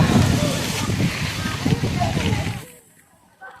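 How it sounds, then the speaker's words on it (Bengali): Strong wind gusts through a village ahead of rain, buffeting the microphone with a loud rushing rumble under a voice before dropping away near the end. "প্রচন্ড বাতাস আসতেছে, মনে হয় যেন বৃষ্টি আসবে।"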